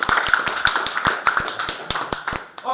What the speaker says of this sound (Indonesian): Tepuk tangan dulu Pak aja.